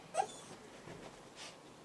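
A young chihuahua gives a couple of faint, high whimpers close by, short and thin against quiet room sound.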